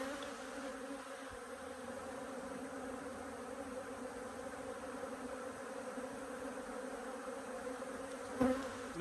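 Buckfast honey bees swarm around an open hive, a steady, dense buzzing drone holding at an even level throughout, with one brief knock near the end.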